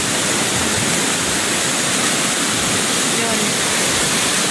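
A swollen river rushes past after a flood, its loud, steady roar of turbulent water filling the air continuously without a break.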